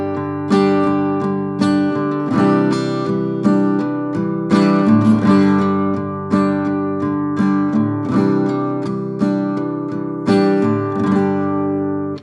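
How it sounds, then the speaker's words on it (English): Acoustic guitar strummed alone in 4/4 with a syncopated 3+3+2 accent pattern, clear repeating chord hits with a steady bouncing rhythm, close and moderately loud. "So if I play that accent pattern on the guitar"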